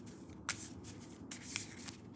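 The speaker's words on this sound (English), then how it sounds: "Then grab each of their 6 starting cards, shuffle them," A small deck of board game cards is shuffled by hand in two quick riffling bursts of crisp, papery flutter, with a soft low hum beneath and no talking.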